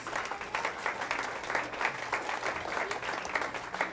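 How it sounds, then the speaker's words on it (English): Applause for teachers and principals at a school career-pathways end-of-year celebration, a moderate crowd clapping steadily with individual claps standing out in an even, continuous patter. "Give them a round of applause."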